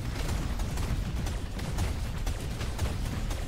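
Gunfire from the Dyson Sphere Program space factory game during a Dark Fog attack, a dense, continuous rattle of rapid shots layered into a loud, even barrage with no pauses and no talk.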